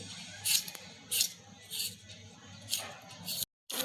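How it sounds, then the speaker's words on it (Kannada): Beetroot being peeled by hand in a home kitchen, giving several short, scraping bursts at irregular intervals, close and moderately loud, with a quiet background hum and no talking. "ಇದನ್ನು ಸಿಪ್ಪೆ ತೆಗೆದು ಕಟ್ ಮಾಡ್ಕೋಬೇಕು ರೀ"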